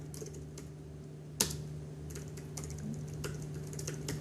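Someone types on a computer keyboard while coding, producing soft scattered key clicks with one sharper tap, close and quiet over a faint steady hum, with nobody speaking.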